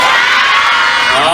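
A crowd cheers and screams at a watermelon festival stage show, a dense, loud, continuous roar of shrieks and whoops with no pause across the short burst.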